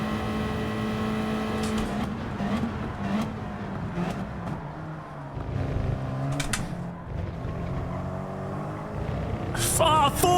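Racing car engine in the Gran Turismo video game, revving and dropping through gear changes into third and fourth, a continuous droning whine with pitch sweeps and a sharp rise near the end.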